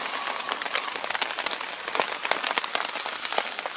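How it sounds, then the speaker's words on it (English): Rain falling at the seaside during night sea fishing in the UK, a steady close patter of drops hitting surfaces with scattered sharper taps, no voices. "if this rain carries on I won't be here too long"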